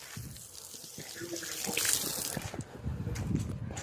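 Borewell water running from a tap on a house rooftop terrace, a close, steady gushing stream with some splashing that swells midway and carries on to the end.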